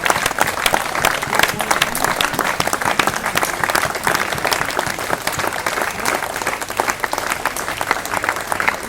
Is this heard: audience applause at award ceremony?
yes